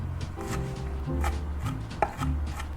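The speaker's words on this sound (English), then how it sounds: "we're gonna mince a large chili pepper." A knife minces a large chili pepper, serrano or jalapeno, on a cutting board, with rapid, close, crisp chopping strikes in an irregular rhythm and one sharper knock near the end.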